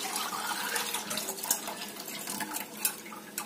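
Thin besan batter poured into a pan over a high gas flame, a steady watery splashing and trickling with a few small metallic clinks, close and moderately loud.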